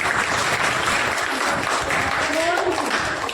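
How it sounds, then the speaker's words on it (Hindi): A community gathering of women in a settlement claps on cue, a steady moderately loud burst of hand-clapping with some overlapping voices and murmur underneath. "बहुत बढ़िया, तालियां बजाइए एक बार।"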